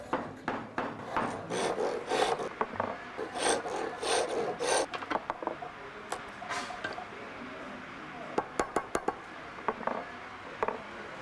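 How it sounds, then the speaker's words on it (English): A traditional bow lathe turns wood in a Marrakesh medina workshop while a chisel shaves the spinning piece, giving rhythmic back-and-forth rasping strokes, close and moderate, then lighter scattered scrapes and taps. "This man is working with a tool resembling a bow and moving the chisel with his foot."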